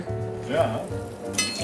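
Breaded risotto balls, coated twice, sizzle and fry in a pan in a home kitchen, a steady close crackle with a brief louder spatter near the end, under a short spoken word.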